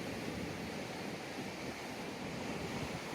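Ocean waves washing onto the shore in Maui, Hawaii, a steady broadband roar of surf mixed with wind, fairly faint and continuous, with no voices.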